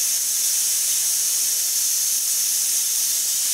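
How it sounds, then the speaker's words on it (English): Steam hisses steadily from a Ninja Foodi pressure cooker, a loud continuous broadband rush with no break and no talking. "So quite a buildup of steam here."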